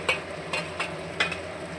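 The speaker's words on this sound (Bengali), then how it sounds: "আলুর সাথে আবার চিকেনটা ভালো করে কষিয়ে নেব।" Chicken and fried potatoes sizzle in a pan for a chicken kosha, with four quick stirring scrapes at a steady pace over a continuous close fry.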